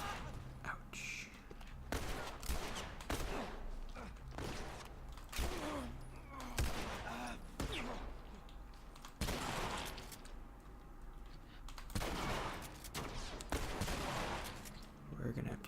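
Gunfire in The Last of Us video game: repeated sharp shots and bursts crack out at irregular intervals over a busy, noisy game soundscape.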